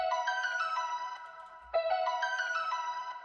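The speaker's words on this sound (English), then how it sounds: "The last thing probably we're gonna do is add a bell." A synth bell preset in FL Studio plays a bright, chiming melody of top notes for a trap beat, two repeating phrases with a brief dip in the middle, alone with no voices.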